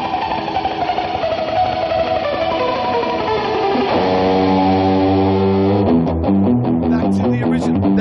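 Electric guitar played through a Dunlop MXR reverb pedal in a frantic Dick Dale surf style, with a dense wash of reverb under sliding and then rapid tremolo-picked notes, loud and continuous throughout.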